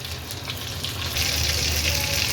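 Breadcrumb-coated prawn lollipops fry in hot oil over a low gas flame, a steady close sizzling hiss that holds evenly throughout and swells slightly toward the end, with no voices.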